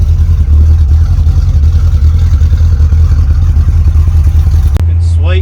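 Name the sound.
Holden HQ car engine running while driving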